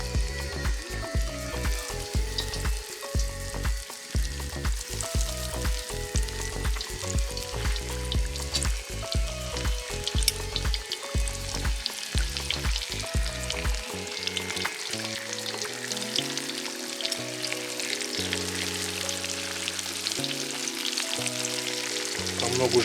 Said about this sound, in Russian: масло накалилось, и мы теперь кидаем курицу,